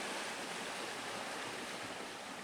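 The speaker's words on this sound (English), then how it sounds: "What a beautiful little stream though." A small stream flows steadily in the open, a continuous broadband rush of moving water, fairly faint and even throughout with no voices.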